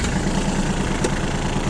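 A Japanese tractor engine idles steadily just after starting, a continuous low rumbling chug with a regular pulse and a brief higher click partway through, close by and with no talk.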